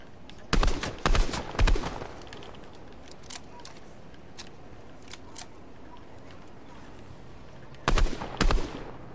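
Gunfire aimed at a wall comes as quick clusters of sharp, close shots, three bursts early and two more near the end, with a quiet ambient stretch in between.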